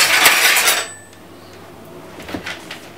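A clean spoon clatters against dishes and utensils while baking cannabis edibles with hemp oil, a loud burst of clinking in the first second, then quieter scattered taps near the end.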